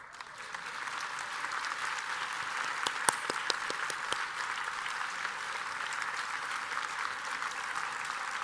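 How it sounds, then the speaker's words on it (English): Applause at a Bay Area gala as staff members stand to be honored, a broad, even crowd clapping sustained throughout, somewhat distant and moderately soft, with a few sharper claps standing out. "please stand up now so we can give you a big round of applause"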